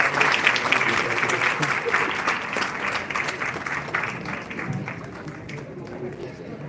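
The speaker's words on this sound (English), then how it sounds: "Please give a huge round of applause." Sustained audience applause at an AI seminar honoring ceremony, a dense steady clapping that slowly thins and fades toward the end.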